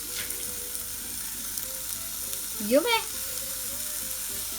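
Aldi vegetarian kebabs sizzle on a barbecue with a soft, continuous frying crackle. A short spoken remark rises briefly above it.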